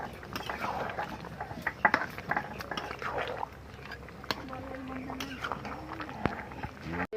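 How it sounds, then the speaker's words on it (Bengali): A spoon stirs chicken bhuna with kasuri methi in a pot, making soft scrapes and scattered metallic clinks over a low, wet bubbling, with quiet kitchen sounds throughout. "তো ভালো করে নেড়ে দেবো।"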